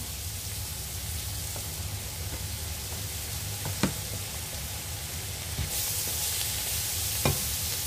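Leafy green vegetables stir-fried in a pan, a loud, continuous sizzle and hiss with occasional scraping clicks of stirring, and no talk.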